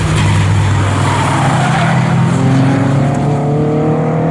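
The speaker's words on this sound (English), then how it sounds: "There goes our race leader, back over the start-finish line." A Morgan race car at Snetterton roars loudly across the start-finish line during a race, engine note sustained and steady at full volume with a slight passing shift.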